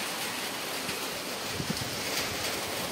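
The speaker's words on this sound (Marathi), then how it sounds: "इकडे बघा वादळ सुटले, पाऊस आला" Storm wind and rain sweeping in, a dense, steady roar of gusting wind and falling rain close around the microphone, loud and unbroken with no voices.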